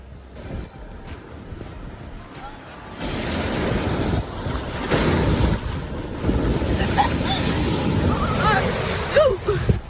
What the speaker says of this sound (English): Why are these waves bigger like this?